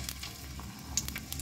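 Chopped onion hitting a little hot oil in a pot, a soft crackling sizzle with sharp pops scattered over a steady frying hiss, close and fairly quiet.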